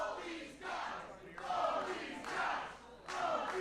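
Wrestling crowd at a live event cheering and roaring in rolling swells, loud and dense, with no clear voices standing out.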